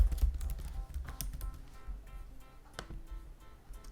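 Quick, fairly faint keystrokes on a computer keyboard as an email address and password are typed in, a loose run of soft clicks over a low background rumble.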